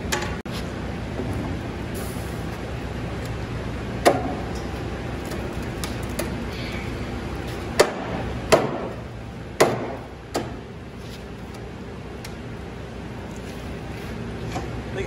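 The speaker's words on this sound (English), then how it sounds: "I think hammering seems to do the best" A steel beam struck by hand hammering in a workshop: a handful of sharp, separate metallic blows spaced several seconds apart over a steady background hum, with no talking.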